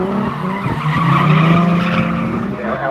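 A white Nissan R32 drift car spins out at a drifting track in New South Wales, its tyres skidding and squealing loudly over a droning engine, close and sustained for a few seconds.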